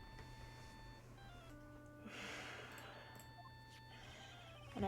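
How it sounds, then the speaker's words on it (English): A phone ringtone from a courtroom video game, set in a district court defendant lobby, plays as a steady electronic melody of sustained tones, moderately loud, with no speech over it. "And I bet it was this ringtone that caused it"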